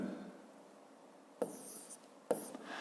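Chalk or marker scratching steadily on a school board during a physics lesson, a soft continuous rubbing with two sharp taps where strokes begin, faint and close.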